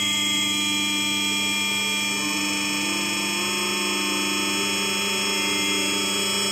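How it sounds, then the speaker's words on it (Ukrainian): A hydraulic test stand runs with oil supplied to a steering metering pump for MTZ, YuMZ and T-series tractors, giving a loud, constant whine with steady tonal drone and no pauses. "зараз ми покажемо роботу даного стенда і дозатора"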